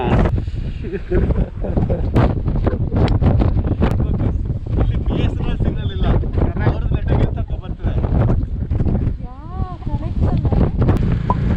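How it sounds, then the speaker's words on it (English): Strong wind buffets the microphone with a loud, continuous roar, and people talk over it throughout. "It's super windy"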